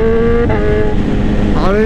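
A 2018 BMW S1000RR superbike engine roars loudly and continuously while being ridden, its steady high drone shifting pitch slightly and then rising as the rider opens the throttle near the end.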